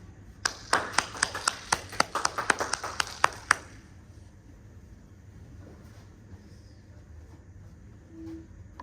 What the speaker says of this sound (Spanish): recibamos con un fuerte aplauso al doctor Giovanni